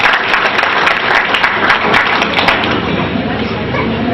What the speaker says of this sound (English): Mr. Manta, a round of applause.